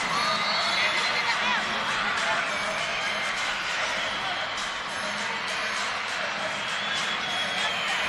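A college men's basketball crowd in a gym cheering and whooping steadily, a diffuse bright roar of many voices at moderate distance, with a commentator talking over it.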